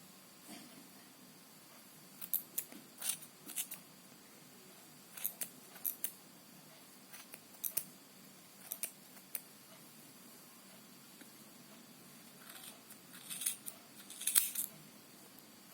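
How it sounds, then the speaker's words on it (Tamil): Scissors snip through crochet yarn while a pom pom is being made. The cuts come as repeated short, crisp clicks, near and fairly faint, in irregular clusters separated by brief pauses. "ஸோ இந்த யான்ஸ் எல்லாம் இந்த பக்கம் இருக்கிற யான்ஸ் எல்லாம் நான் கட் பண்ணிக்க போகிறேன்."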